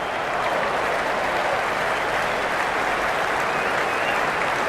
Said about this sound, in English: The spectators are absolutely buzzing right now.